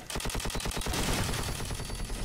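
A light machine gun in Call of Duty fires a rapid, evenly spaced stream of loud shots that runs for about two seconds without pause.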